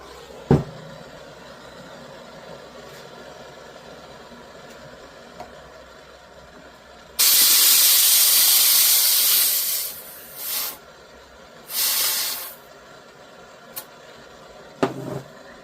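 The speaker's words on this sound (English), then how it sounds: "going to heat it up all the way around with the torch" A torch flame heating rubber bike grips on a mini bike roars with a loud, close hiss for a few seconds, followed by shorter bursts and a few quiet clicks.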